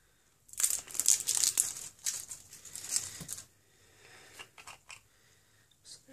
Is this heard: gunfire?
no